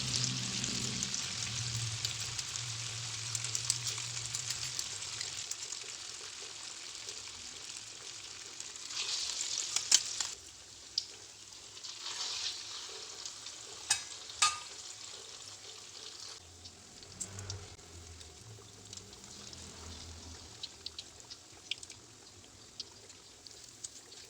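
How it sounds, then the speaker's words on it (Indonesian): Leftover tofu perkedel batter frying in hot oil, a steady close sizzle with occasional sharp crackles and scraping stir sounds as pieces are added and turned, no talking. "Goreng sisa adonan hingga habis."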